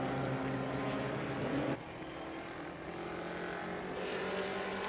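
Vintage race cars, including historic sports-racing cars and Formula Juniors, roar by at Indianapolis during an SVRA race. A steady, distant engine drone shifts down in pitch partway through, with no talk.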